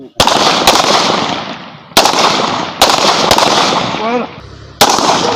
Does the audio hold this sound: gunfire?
yes